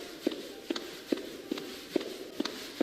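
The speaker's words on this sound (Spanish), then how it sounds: "comienzo a escuchar que se vienen acercando unas pisadas de zapatilla en la calle." Hurried sneaker footsteps on a street at night, about seven sharp evenly spaced steps at a brisk pace, fairly close and clear over a quiet background with no talking.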